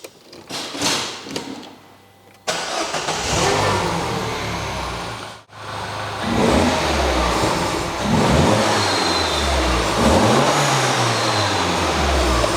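A track car engine cranks and catches, then idles and revs up and down several times, loud and close, with a brief cut in the middle.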